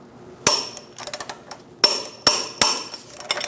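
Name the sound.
torquing Chevrolet Silverado lower control arm bolts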